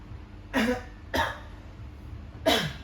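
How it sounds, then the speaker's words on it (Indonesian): Three sharp coughs, close and loud, spaced about a second apart, with quiet breathing between them. "maaf teman-teman, lagi batuk soalnya"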